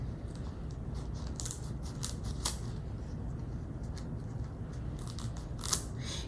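Scissors snip at a corn husk doll, trimming husk and twine: a scattered run of light, crisp cuts over a steady low background hum, with no one talking.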